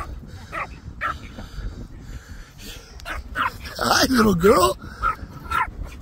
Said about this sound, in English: I love when she barks at him.